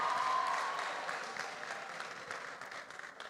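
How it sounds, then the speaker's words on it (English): Applause from a conference audience for a media panel, a dense wash of many hands clapping that starts strong and gradually thins and fades over a few seconds, fairly quiet and distant. "Please, let's give our panelists a round of applause."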